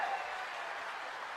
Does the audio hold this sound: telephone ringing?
no